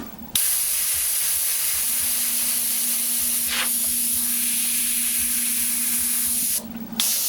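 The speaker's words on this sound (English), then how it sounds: "Just simply spray over top of it, get the star itself, then get right up close, spray it" An airbrush sprays paint through a stencil to form a star, giving a loud, steady hiss that runs almost unbroken for several seconds before cutting off briefly near the end.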